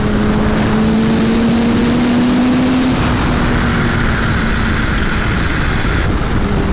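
A motorcycle at high speed on an open road, engine droning steadily with a slowly rising pitch as it accelerates, heavy wind roar throughout, close and loud, with no speech.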